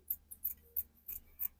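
Scissors snip through fabric being cut out for a shirt dress, giving about six quick, quiet, close cuts in an uneven rhythm.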